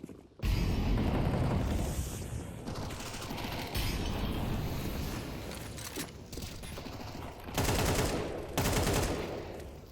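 Rapid rifle fire in a Counter-Strike esports match at the Esports World Cup 2025 during a triple kill, loud crackling bursts over a dense mechanical din, with brief gaps and fresh bursts near the end.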